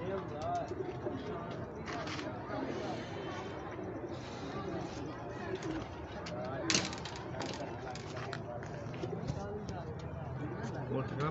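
A pigeon coos repeatedly nearby at a pigeon gathering, its soft throaty calls mixed with outdoor background noise and people talking.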